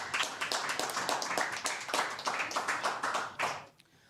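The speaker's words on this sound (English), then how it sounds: "Let's clap it up." A small group claps in quick, rhythmic, fairly close beats for a few seconds before the clapping stops abruptly.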